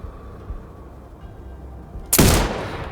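A sniper rifle shot in the video game Sniper Ghost Warrior Contracts 2, one sharp, loud crack that breaks a quiet low ambience and tails off briefly.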